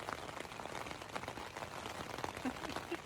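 Steady rain patters and taps on a surface nearby on a mountain night, a soft continuous crackle with scattered louder drops.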